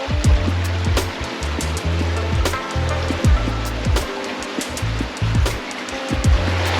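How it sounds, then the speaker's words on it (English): Creek water flows steadily at close range, a continuous rushing wash broken by irregular low thumps and splashes, with no voices. "the creek comes back to daylight"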